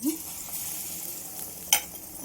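Erekai bajji batter frying in hot oil makes a steady, soft, close sizzle, broken once by a sharp utensil clink.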